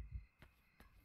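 A heartbeat throbs in the dark horror game Yomawari: Night Alone, a faint, low thump followed by two evenly spaced soft beats under a quiet hum.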